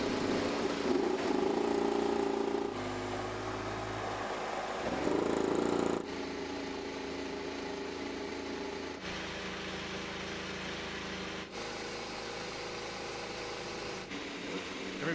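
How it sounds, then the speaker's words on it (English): IndyCar race car engines start up and idle at Road America, a layered steady drone of several engines with shifting pitch as the cars fire and settle, heard from a short distance. "Drivers, please start your engines."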